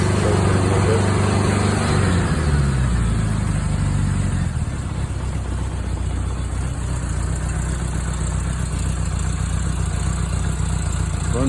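A 1976 Honda GL1000 LTD motorcycle engine with recently cleaned carbs idles steadily and close by. The pitch and tone shift partway through as the choke is adjusted, then settle into an even, smooth running drone with no voices.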